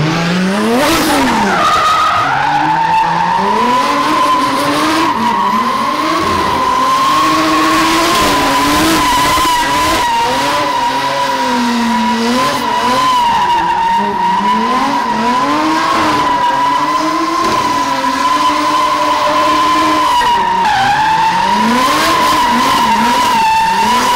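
A car doing its first burnout, tires screeching in a sustained, loud squeal that wavers in pitch while the engine revs rise and fall beneath it, continuous and close throughout with no voices.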